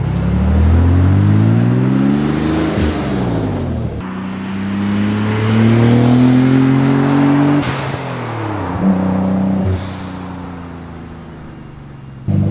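Twin-turbo Nissan 300ZX with 180,000 miles, its engine idling steadily then revved several times, the pitch climbing and falling in loud close bursts with brief lulls back to a rumbling idle.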